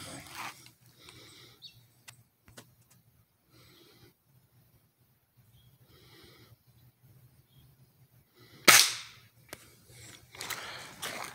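Single sharp crack of a Gamo Whisper air rifle shot outdoors beside a creek, loud and close, following a stretch of quiet outdoor ambience with faint rustling.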